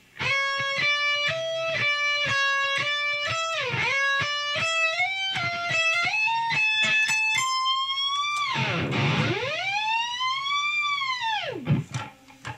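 An electric guitar plays a high, sustained solo line with long bends and slides, singing notes climbing and dipping, loud and alone.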